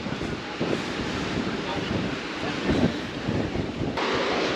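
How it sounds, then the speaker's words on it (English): Strong coastal wind in Itoshima, Japan roars and buffets the microphone continuously, with gusty low rumbling swells throughout. "We've come out here on the extra windy side."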